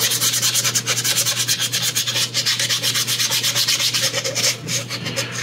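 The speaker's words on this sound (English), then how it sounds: "I'm gonna scuff this up just a little bit. Again, I'm not really sanding." Steady rapid back-and-forth scuffing of sandpaper or an abrasive pad across the arm of a resin figure, lightly roughening the surface to prep it for epoxy; a continuous close, even rubbing rhythm with no talk.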